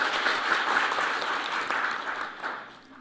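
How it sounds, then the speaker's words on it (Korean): An audience applauds at a Korean policy forum as a panelist is introduced, a steady, dense clapping that fades toward the end, with no talk over it. "박수로 환영해 주십시오."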